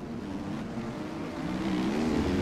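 A Husqvarna motocross bike engine in MX Bikes drones steadily, a continuous buzzing motor tone that rises slightly toward the end, with no talk.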